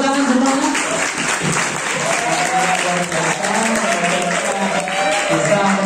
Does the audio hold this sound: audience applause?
yes